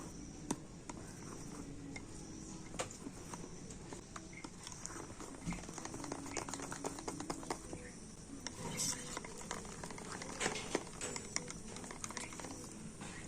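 Cake batter with cocoa powder being beaten, a quiet, steady patter of quick light taps and scrapes that continues throughout with no voices.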